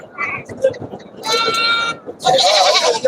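Goats bleating at a livestock market, two loud close bleats with a shorter call before them, set against murmuring voices and crowd noise.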